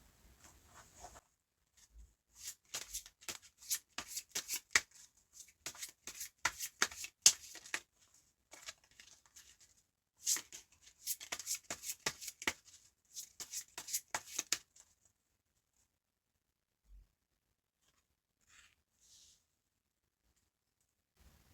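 Tarot cards shuffled by hand in two quick bursts of crisp riffling and slapping, close and clear, separated by a short pause and ending in near silence.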